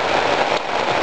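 Heavy overnight rain during a storm pours onto a tent at a Morocco camp, a dense, loud, continuous hiss of drumming drops with no voices.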